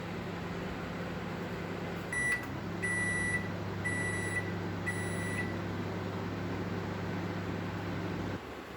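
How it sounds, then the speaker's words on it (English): An oven grilling a cheese-topped baked vegetable dish, with a steady low hum of the running appliance and a few short electronic beeps partway through, close by with no talking. "now I'm going to grill it so that the top becomes nice and brownish when the cheese melts"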